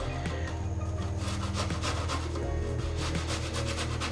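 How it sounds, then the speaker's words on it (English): Garlic rubbed quickly over the small holes of a kitchen grater, a dense, rapid rasping scrape repeated in a steady back-and-forth rhythm, loud and close with no talking. "And I'm using the smaller grating on my grater"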